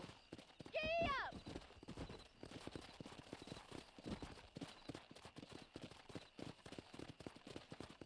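Horse hooves clip-clopping at a quick, steady gallop in Red Dead Redemption, opening with a short neigh, then rhythmic hoof beats running throughout with faint voices underneath.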